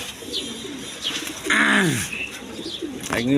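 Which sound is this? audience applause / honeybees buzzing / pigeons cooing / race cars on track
pigeons cooing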